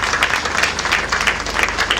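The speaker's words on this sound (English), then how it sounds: "They deserve a big round of applause." Steady applause from a crowd honoring the workers at the commissioning ceremony of the LBIC/Megamound Greater Lagos apartment, dense and continuous clapping at moderate loudness with no talk over it.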